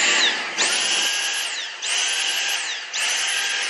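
A Dyson V6 cordless vacuum running on high suction gives a loud, steady high-pitched whine that dips briefly and swells again three times, close up with no talk.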